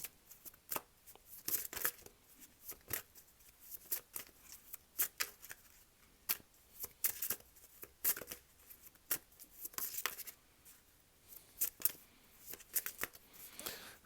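Tarot cards are shuffled and drawn in a steady run of soft riffling flutters and crisp slaps, close and fairly quiet, repeating irregularly with no voice over them.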